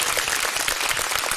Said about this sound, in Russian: Ваша бурная аплодисмент.